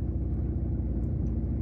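A car engine idling rough with a misfire on cylinder 2, a close, loud, low uneven rumble holding steady throughout.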